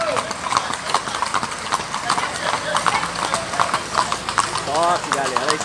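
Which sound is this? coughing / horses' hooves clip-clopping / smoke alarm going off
horses' hooves clip-clopping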